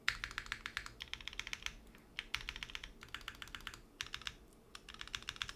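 Typing on a suspension-mounted mechanical keyboard with Cherry MX Black switches: rapid, close clacking keystrokes in quick bursts separated by short pauses, with no talking.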